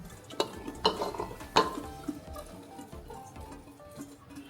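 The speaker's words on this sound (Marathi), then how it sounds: "आता मी याच्यात वटाणे टाकत आहे" Peas drop into a pressure cooker already holding potatoes for pav bhaji, a few sharp clattering hits in quick succession, then softer rustling and settling, close and moderately loud with no talking.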